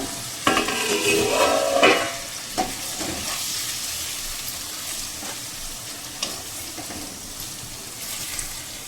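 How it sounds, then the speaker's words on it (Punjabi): Stuffed eggplant sizzles in hot oil as it is stir-fried for bharwa baingan, Punjabi style, with scraping stirs and clinks early on, then a steady soft frying hiss broken by a few sharp utensil taps. "ਇਹਨੂੰ 2 ਮਿੰਟ ਵਾਸਤੇ ਤੇਲ ਦੇ ਵਿੱਚ ਹੋਰ ਭੁੰਨ ਲਾਂਗੇ"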